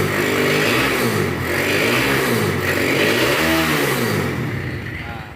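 Honda Megapro/Tiger motorcycle engine with a full-wave stator conversion, revved repeatedly close by during a regulator voltage check, rising and falling in steady swells of loud engine roar, with no talk.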